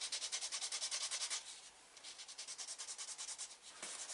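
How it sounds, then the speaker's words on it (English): A leather clutch edge, freshly dyed, is burnished with canvas in quick back-and-forth strokes, making a soft, rhythmic rubbing swish that runs steadily, pauses briefly, then resumes. "a quick burnish with the canvas."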